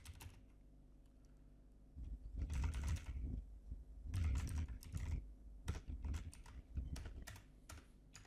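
Code is typed on a computer keyboard in irregular bursts of close, crisp keystrokes separated by short pauses, with a faint steady hum behind and no talking.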